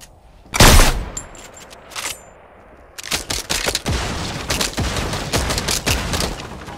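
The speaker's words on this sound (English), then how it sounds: "Both shooting." Video-game gunfire from two players trading shots: a loud single blast, then a pause, then dense, rapid bursts of shots close by that continue to the end.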